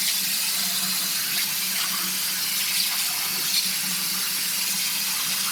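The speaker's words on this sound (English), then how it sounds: "we're going to put some water in each of them." Water runs steadily from a tap into glass canning jars, a continuous even hiss and trickle close by with no talking, while jars are readied for a boiling water bath before making strawberry jam.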